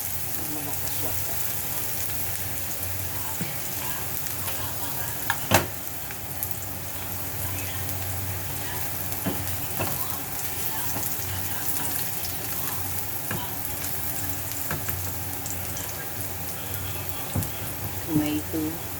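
Scrambled eggs fry in a small frying pan, giving a steady close sizzle throughout with a few sharp clicks and scrapes from stirring.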